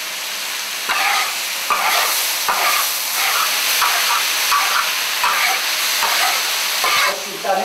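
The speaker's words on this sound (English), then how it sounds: "a communal feast of chili, ginger, stirred fried pork, shredded potato, and the inevitable steamed rice" Pork stir-fried with chili and ginger in a hot wok, a steady sizzle broken by repeated scraping stirs roughly every second, close and fairly loud with no voices.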